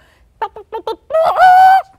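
A voice imitates a mother hen clucking, with four short, choppy clucks followed by a longer, drawn-out squawking call, loud and close.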